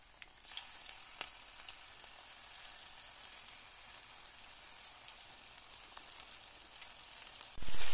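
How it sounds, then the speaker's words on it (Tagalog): Fish fillets frying in hot cooking oil give a steady, close sizzle with fine crackling pops throughout, ending in a brief louder burst. "Guys, ready for frying na ito."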